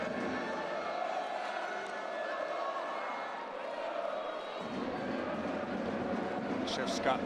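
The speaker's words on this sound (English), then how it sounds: "The Hungarian crowd in great voice here." Hungarian crowd at a women's handball European Championship match between Hungary and Poland, a steady loud roar of cheering and chanting filling the arena, with a commentator talking over it.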